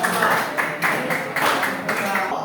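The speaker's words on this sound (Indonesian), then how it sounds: "Tepuk tangan dulu buat kita dan kelompok" University students in a microteaching math class clap together for their group. The clapping comes as a patterned rhythm of repeated bursts about half a second apart, fairly close and lively.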